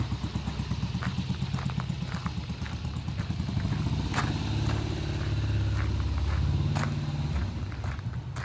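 A vintage British 650 motorcycle rides in under its own power, its engine thrumming unevenly and swelling louder as it draws near, with scattered mechanical clatter and footsteps around it.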